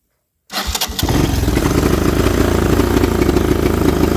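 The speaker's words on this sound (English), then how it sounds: "That's full throttle right there." 1983 Honda 200e three-wheeler engine, a poorly running carburetor setup, roaring up at full throttle after a brief start, loud, close and steady with a buzzing tone.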